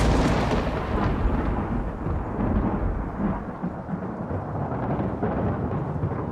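Thunder rumbles through a storm sound effect in an audiobook as a dense, continuous low roar, loud and heavy throughout with slight surges, with no narration over it.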